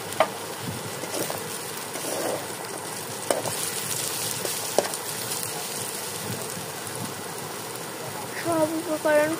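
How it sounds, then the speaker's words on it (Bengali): Salt and turmeric powder fried together with spices in a pan for a small-fish dish, giving a steady, moderate sizzle with faint stirring scrapes throughout and a few brief tonal chirps near the end. "এবার এর মধ্যে দিয়ে দিতে হবে লবণ, হলুদের গুঁড়ো, দিয়ে খুব ভালো মতো সব একসাথে ভেজে নিতে হবে।"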